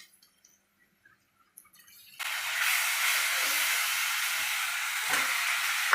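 Chicken drops into a hot pan for Chicken 65 after a quiet start, then a steady, loud sizzle begins and holds to the end with no talk.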